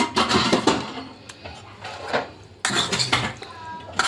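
Raw fish pieces being mixed with chili spice using a spoon in a metal dish, a few irregular clinks and scrapes of spoon on dish, close and fairly quiet.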